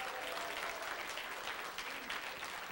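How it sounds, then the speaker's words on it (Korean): Congratulatory applause from an audience at a corporate innovation concert and awards event, a steady, dense wash of clapping lasting a few seconds, distant and even in level. "축하의 박수를 부탁드립니다."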